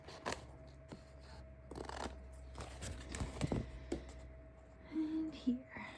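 Scissors snip through sheets of postage stamps in a few quiet, close cuts, with paper rustling and handling sounds in a hushed setting and a soft whispering voice heard under the sounds.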